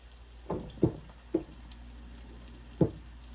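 Mustard-coated king mackerel pieces frying in hot oil, with a quiet steady hiss broken by four short, distinct splattering pops spaced irregularly.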